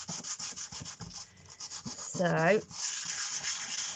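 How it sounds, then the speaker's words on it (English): A Christmas lantern being rubbed with sandpaper: steady, rhythmic strokes of gritty abrasion, close and moderately loud, with a brief spoken word near the start. "just give it a good rub with the sandpaper."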